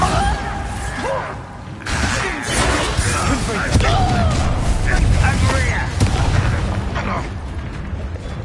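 Bombarda explosion spell cast during a Hogwarts Legacy fight, a booming blast with crackling debris amid constant combat noise, with voices talking over it.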